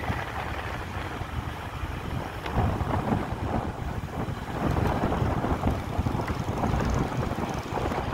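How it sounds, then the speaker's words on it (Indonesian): Strong wind on a new mountain road between Alahan Panjang, Solok and Bayang in Pesisir Selatan, a loud, constant roaring buffet across the microphone that surges in gusts for the whole stretch, with no voices. "Angin juga lumayan kencang di sini."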